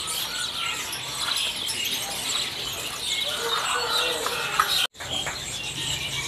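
Bar-winged prinias kept for sale at a bird shop chirp in high, rapid, overlapping tweets, a busy chorus of small caged birds with a brief cutout near the end.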